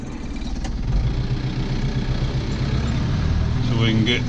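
A tractor with silage kit pulling forward, its engine a loud, steady low rumble under nearby talk, with brief higher squeaks toward the end.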